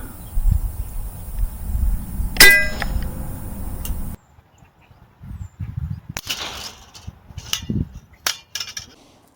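An airgun fires a Gammo Red Fire ballistic tip pellet into a metal spoon, giving one sharp ringing clang that decays briefly. Softer rustling and handling noises follow after a pause.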